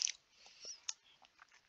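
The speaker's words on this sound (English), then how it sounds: "Sorry if you can hear me chewing gum." Gum being chewed close to the microphone: soft, wet smacks and clicks in an irregular rhythm, faint and alone with no talking.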